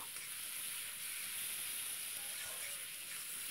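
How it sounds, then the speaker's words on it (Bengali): Chopped tomato hits a hot pan and is stirred while cooking chicken with chui jhal, giving a steady, faint sizzle and hiss with soft stirring scrapes throughout. "এই যে টমেটো কুচিটা দিয়ে দিচ্ছি, দিয়ে ভালো করে একটু নেড়ে নেব।"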